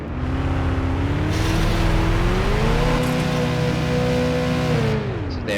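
Harasser buggy engine in Planetside 2 revving steadily and loudly, its pitch climbing and shifting through the jump and roll, with a burst of noisy impact texture partway through and no talk.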